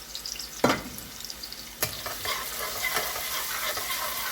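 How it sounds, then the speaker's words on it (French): Onions fry in a pan for paneer biryani, a steady close sizzle broken by a couple of sharp stirring knocks against the pan. "je laisse vraiment bien griller mes oignons avant de verser mon riz"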